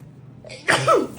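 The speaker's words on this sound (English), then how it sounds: "I've reached the part of the cold where you're sneezing and blowing your nose" A single close, sharp sneeze from someone with a cold, with a short breathy intake before it, alone in a quiet room.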